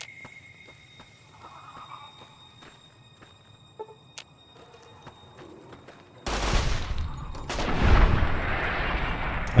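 Bursts of video game gunfire burst in loud at about six seconds after a quiet stretch of faint ambient clicks and tones, then sustain as a dense volley of rapid shots.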